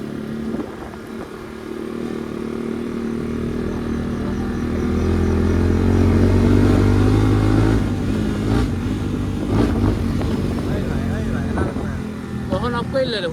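A motorcycle engine rumbles and pops amid dense night traffic at a crowded Eid market, with other vehicles around; the drone swells and holds near the rider, with sharp cracks and people talking over it.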